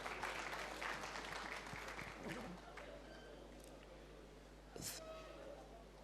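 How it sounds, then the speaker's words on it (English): Applause from a press briefing audience fades in and out with scattered claps, fairly distant and modest, over a low steady hum with a brief louder burst near the end. "Please, a round of applause for him."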